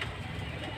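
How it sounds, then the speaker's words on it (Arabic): Pigeons coo softly and briefly as they come down toward a rooftop net, a faint low murmur with no talk. "بصوا كده يا رجاله الحمام بيبتدي ينزل اهو"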